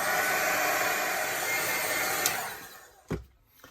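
A handheld hair dryer blows steadily to dry an ink art journal page, a loud constant whir that cuts off near the end, followed by a couple of faint handling knocks.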